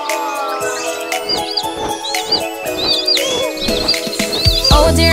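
Cartoon bird chirping loudly in a series of quick, repeated tweets over a busy children's song backing with steady beats.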